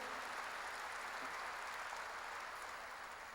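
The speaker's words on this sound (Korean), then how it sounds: "박수를 하자." Church congregation applauding together, a steady dense wash of many hands clapping at a fairly even level throughout, with no break or voice standing out.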